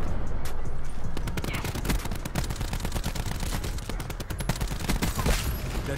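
Rapid automatic gunfire from a Rampart-class setup in Call of Duty Black Ops 4. The close, loud shots rattle in dense, fast bursts with only brief gaps throughout.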